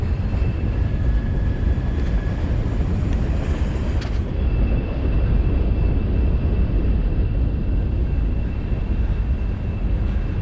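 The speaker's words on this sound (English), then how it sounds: "Watching the train go by." Train rolling past at Horseshoe Curve, a steady broadband rumble with faint high wheel squeal, continuous and fairly close throughout.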